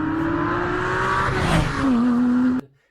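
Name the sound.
sports car engine revving outside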